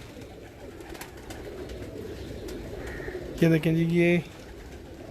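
Ferozpuri pigeons give a short, loud coo close by, a few tonal pulses near the end over steady room noise, with someone talking before it.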